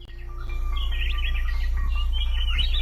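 Several birds chirp and call in the Amazon rainforest at morning, bright overlapping tweets over a steady low hum, fairly close and continuous throughout.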